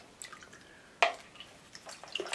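Paint brush swished and rinsed in a large bucket of water while painting an acrylic abstract, giving soft watery drips and one sharper splash midway, close and fairly quiet.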